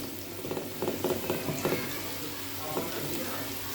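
Onions fried to light brown in a pan with garlic ginger paste added, for a potato and egg bhujia, giving a steady, hissing sizzle with scattered stirring clicks and scrapes, fairly quiet and close.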